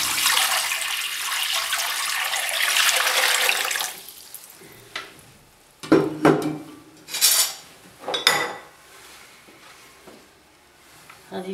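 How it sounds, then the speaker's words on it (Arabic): Water gushes steadily into a cooking pot for a few seconds, followed by clanks and knocks of the pot and utensils, with someone talking in between. "غادي نديروا الماء"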